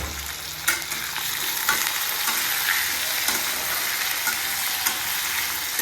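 Potatoes hiss and sizzle steadily in a hot pan after onions for a prawn malai curry. The frying runs close and continuous, with scattered pops and spatula scrapes and no voices.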